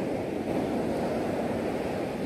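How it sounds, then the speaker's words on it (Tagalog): Waves at the seaside, a steady, even wash of surf with a soft rushing hiss and no voices, heard at a moderate distance throughout. "Nandito tayo ngayon sa tabing dagat."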